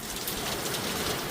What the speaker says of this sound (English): that rain got heavier and heavier and the wind got stronger and stronger